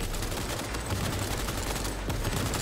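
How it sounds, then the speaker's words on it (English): Rapid shotgun fire in Cyberpunk 2077 comes as a dense, continuous string of fairly faint gunshots with a steady, busy rhythm and no speech over it. "No, just a shotgun. Rapid fire!"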